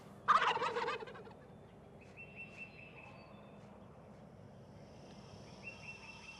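An eastern wild turkey gobbles loudly and rapidly once, then fades into a quiet outdoor background with faint high bird calls.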